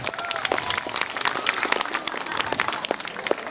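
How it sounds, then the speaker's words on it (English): Dense audience applause fills a magic show stage after a volunteer helps with a ring trick, steady and close throughout with a crowd murmur underneath. "Let's give her a big round of applause for helping out."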